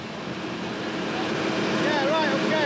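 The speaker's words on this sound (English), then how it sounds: "The last easyJet of the day lands at Liverpool." An easyJet passenger jet landing at Liverpool airport gives a steady, broad roar that builds slightly, with whining engine tones rising in pitch near the end and voices faintly underneath.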